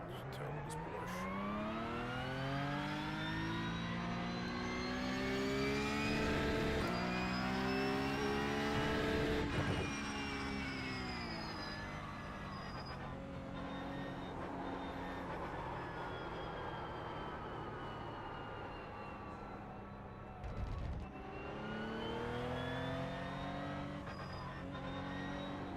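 A Porsche race car engine in the iRacing simulator drones loudly and continuously, rising and falling in pitch through gear changes as it accelerates, with a brief dip near the end.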